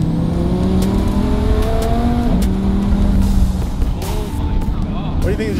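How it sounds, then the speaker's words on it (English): A rebuilt Ferrari spins its tires in a burnout, the engine roaring loud and steady with a rising whine, while excited voices shout over it. "With one hand filming while spinning the tires."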